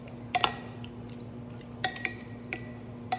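Pork adobo with vinegar and soy sauce stirred in a pot, giving a few short wet squishes and scrapes at irregular intervals over a steady low hum, close and fairly quiet.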